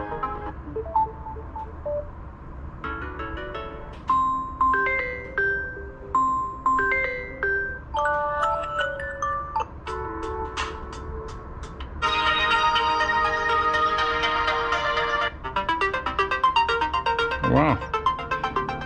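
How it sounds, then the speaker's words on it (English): A new phone plays a series of ringtones one after another, some with short chiming melodic notes and some with denser sustained electronic tones, all clear and near. "every time you have a new phone, you can have some nice new sounds"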